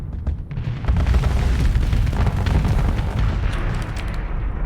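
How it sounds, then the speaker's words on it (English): Torpedoes are launched and detonate in the space combat game Starsector, producing a dense, loud stretch of booming blasts and crackling impacts that persists for several seconds without any speech. "Let's go to our torpedoes. Let's see what those do to this."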